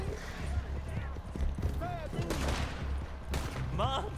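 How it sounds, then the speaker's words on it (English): Gunfire in the Western game Red Dead Redemption 2: a few sharp shots ring out amid continuous horse hoofbeats and game noise, with people talking over it. "Oh, they're shooting me."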